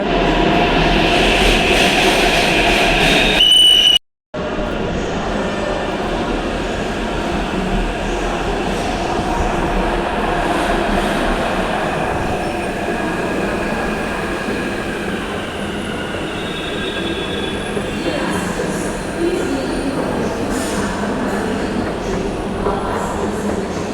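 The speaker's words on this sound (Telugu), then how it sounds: "మన మెట్రో అయితే వచ్చేసింది" A Hyderabad Metro train rumbles loudly and steadily, wheels grinding and faint squeals rising as it runs into the station, with a brief dropout early on.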